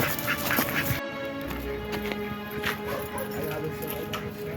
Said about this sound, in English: saw some ducks